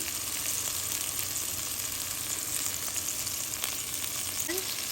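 Beans, corn and peas sizzle in a hot pan for vegetarian chow mein, a steady close frying hiss that runs alone and unbroken throughout.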